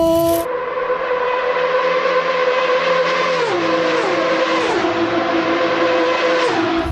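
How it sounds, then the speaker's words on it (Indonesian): Toy or game racing motorbike engine revving steadily with rising and falling harmonic whine, loud and continuous for about seven seconds, with a shift in pitch midway and no talking. "Ini motor balap, teman-teman. Wow, keren sekali. Ayo kita balapan."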